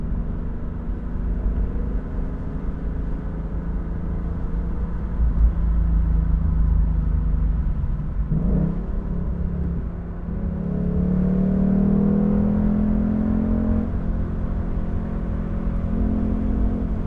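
A 2021 Ford Mustang GT convertible with a manual gearbox drives a twisty road in low gear, its engine rumbling steadily and close, rising in a swell of revs partway through.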